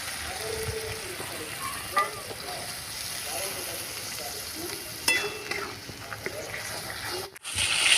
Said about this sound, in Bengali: মশলা পেঁয়াজ টমেটো মশলা আর ভিজিয়ে রাখা ছোলা একসঙ্গে ভালো করে কষিয়ে নিতে হবে